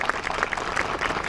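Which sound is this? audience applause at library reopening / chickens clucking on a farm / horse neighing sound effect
audience applause at library reopening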